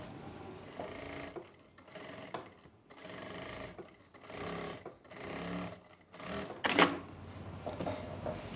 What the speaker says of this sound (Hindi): यहाँ से हम सिलाई लगा लेंगे